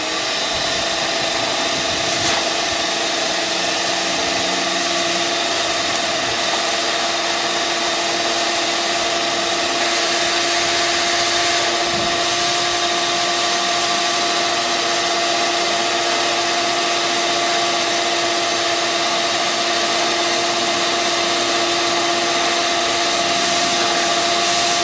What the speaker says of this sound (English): I like to go ahead and use a shop vac and blow air into there